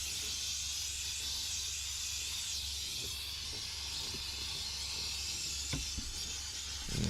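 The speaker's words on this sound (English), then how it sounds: "you don't want to put your hand over the steam when it's working, because I tell you, it's very, very hot" Steady, close hiss of a steam cleaner releasing hot steam during a car deep clean, continuous for the whole stretch with a few faint clicks and no talking.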